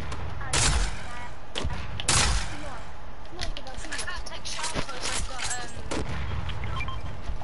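Quad launcher firing in a video game, a series of sharp punchy thumps and bursts scattered across several seconds amid other game effects and chatter.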